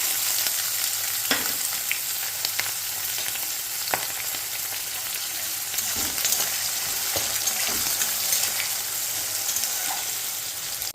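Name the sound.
onion frying in a pan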